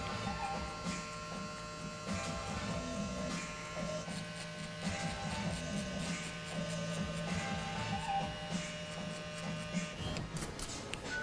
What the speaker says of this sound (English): Do a lot of corner work with the clipper.